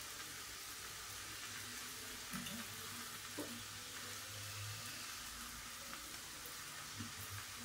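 Leafy greens frying in a pan with a little oil and spices, a steady soft sizzle running throughout with occasional faint stirring scrapes, fairly quiet and close.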